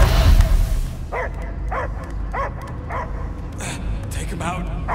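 A dog barks in the Guardians of the Galaxy video game, a series of about six evenly spaced, moderately loud barks following a loud rumbling start, with character dialogue running through the scene.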